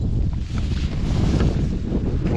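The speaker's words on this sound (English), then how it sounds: "Getting a little windy out here." Strong summer wind blows outdoors in Pennsylvania, buffeting the microphone with continuous loud rushing and low rumbling gusts.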